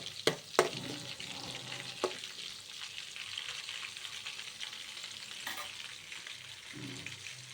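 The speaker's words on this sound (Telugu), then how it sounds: "ఆయిల్ హీట్ అయిన తర్వాత పచ్చిమిర్చి ముక్కలను వేసి బాగా ఫ్రై చేసుకున్నాయి." Green chilli pieces sizzle and fry in hot oil for a Maggi dish, a steady close crackling hiss with a few sharp clicks of a utensil stirring the pan, no voices.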